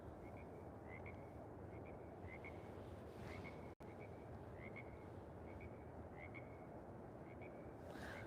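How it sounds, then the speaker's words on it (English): Frogs croak outdoors at night in a quiet, repeating chorus of short double calls, faint and somewhat distant over a constant rushing roar of waterfalls. "Just hear frogs and waterfalls."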